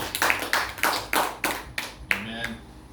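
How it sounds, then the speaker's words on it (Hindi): Hands clap in a steady, even rhythm during a church service, about eight sharp claps spaced roughly a third of a second apart, close and fairly loud, with a voice speaking briefly near the end. "अपने लिए ताली बजाए हम लोग।"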